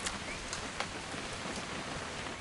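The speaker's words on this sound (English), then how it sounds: "It's gonna rain the whole weekend" Steady rain from a video game falls evenly and continuously, a dense close hiss with a few faint patters and no voices.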